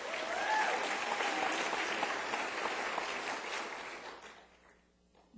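Applause from a large audience at a college opening session, a thick wash of clapping that holds steady for several seconds and then fades out.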